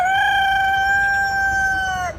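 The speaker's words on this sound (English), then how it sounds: "it's the roosters that just keep on showing up here unannounced" Rooster crowing at an animal rescue farm, one long loud sustained cock-a-doodle-doo heard close and clear against faint outdoor background, no talk.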